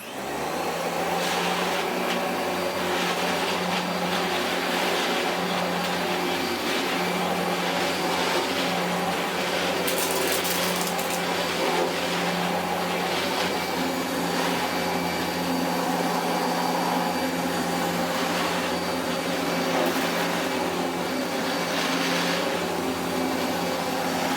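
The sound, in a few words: Hitachi Powerhouse CV-460D upright vacuum cleaner running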